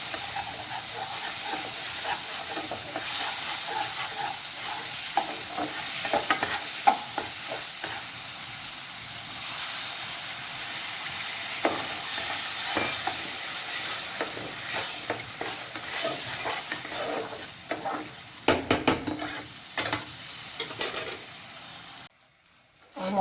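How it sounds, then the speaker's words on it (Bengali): Masala spice paste sizzling and frying in a pan with a little added water, a continuous bright hiss broken by repeated scraping stirs and clicks of the spoon, the sound cutting out abruptly near the end. "মশলাটা কষানো হয়ে গেছে, আর একটু জল দিয়ে মশলাটা কষিয়ে নিয়েছি।"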